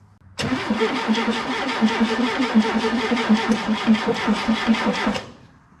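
Classic car engine cranks briefly then catches and runs with a steady, rhythmic loud chugging for about five seconds before cutting off abruptly, close up with no talk.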